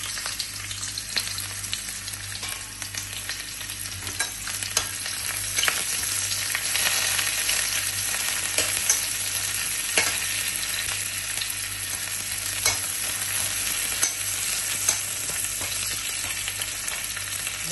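Chopped onions frying in a hot pan give a steady, close sizzle with scattered crackles and pops, with no voices over it.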